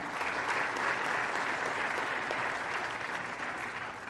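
Dense, steady applause fills a hall during the announcement of South Africa's election results, honouring the election commission; the clapping holds at an even, loud level throughout.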